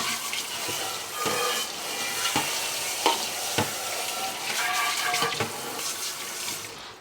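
Running water rinses out a small kitchen kettle being cleaned after a white vinegar scrub, a steady hiss of tap flow broken by several sharp knocks and clanks of the appliance against the sink.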